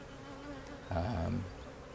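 Honeybees buzzing around a trap-out box set on the ground at a radio tower, a steady close drone that swells louder for about half a second midway, with no talk.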